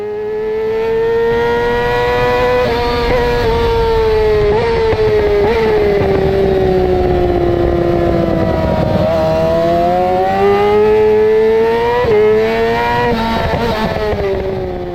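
A Yamaha R6 sport motorcycle races on a circuit with a loud, close, high-pitched engine scream that rises and falls as it brakes, downshifts and accelerates through corners, continuous for the whole stretch.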